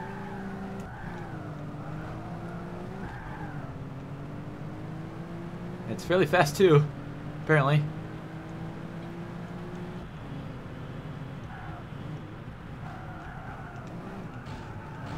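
A TVR Tuscan race car in Project Gotham Racing holds a steady, droning engine tone as it drives, with a couple of short tire squeals midway, while someone talks over it.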